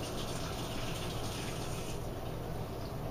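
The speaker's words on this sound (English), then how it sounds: "Let me rinse my hands here quickly." Hands being rinsed under a running kitchen tap while baking a chocolate skillet cake, a steady close gush of water that stays loud and even throughout.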